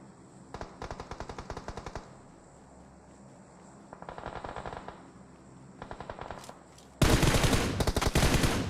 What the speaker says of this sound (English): Shots coming out, Team 21 of 2 Zagros. Coming under fire from Cashman.